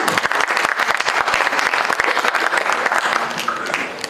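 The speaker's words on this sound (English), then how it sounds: "A warm applause for them, everyone." Students at a B.Tech orientation clap warmly to welcome faculty members onto the stage, a dense, sustained round of many hands that stays even before easing off slightly at the close.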